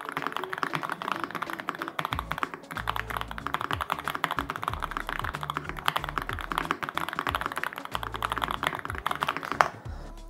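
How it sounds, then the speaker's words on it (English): Someone types briskly on a customizable retro mechanical keyboard, and the keys clack in fast, continuous bursts for several seconds with no talking over them. "Let's just go for like a little type test here."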